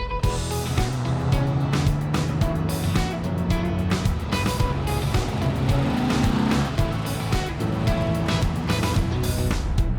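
Classic car at a vintage rally driving a timed lap on an airfield, its engine droning steadily for the whole stretch with rising and falling tones, loud and close, with bursts of clatter and no clear talk.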